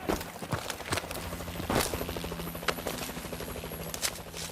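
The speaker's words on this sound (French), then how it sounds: "Y a un hélico qui patrouille!" In the video game Call of Duty: Advanced Warfare, a patrolling helicopter's steady mechanical rumble with rapid rhythmic rotor beating runs under scattered sharp clicks and thuds, fairly faint throughout.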